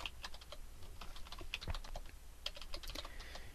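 Quick, irregular keystrokes clatter on a computer keyboard in a fast continuous run, close and fairly quiet, with no voices.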